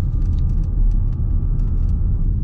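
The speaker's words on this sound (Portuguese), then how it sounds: "a quantidade de barulho de acabamento que ele tem aqui no console central" Inside a moving Jeep Compass Limited 1.3 T270, faint clicking rattles of loose trim from the center console tick intermittently over the loud, constant road and engine rumble of the cabin.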